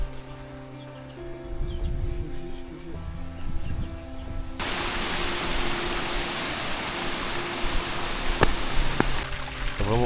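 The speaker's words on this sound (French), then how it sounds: "tout part de la cascade et là on voit à chaque fois les petites cascades qui viennent alimenter à chaque fois les terrasses" Small waterfalls and trickling irrigation channels feed mountain rice terraces in the Philippines, heard as a steady broadband rush of running water with faint bird calls, with no talk over it.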